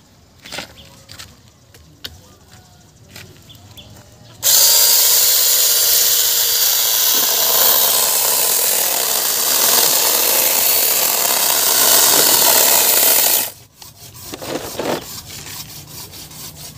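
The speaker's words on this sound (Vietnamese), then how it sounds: "cho anh mượn cái cưa Phi Phi." A new power saw whines loudly through wood for about nine seconds, steady and close, the blade biting deep, with quieter handling clatter before and after.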